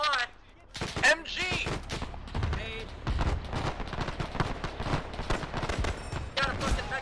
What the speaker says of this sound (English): Got a fucking mechanized MG-42.